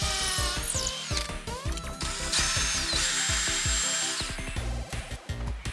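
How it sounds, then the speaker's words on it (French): A power drill bores holes into stone during turret renovation, for wall plugs that hold fixing brackets. The motor whines loud and close and continuously, its pitch shifting with load and pressure, with no voice over it. "on a percé et mis des chevilles dans la pierre pour fixer les pattes"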